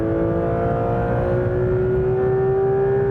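Manthey-kitted Porsche GT3 RS race car accelerating hard on a circuit, its engine note holding a steady rising tone, loud and close throughout with a continuous roar.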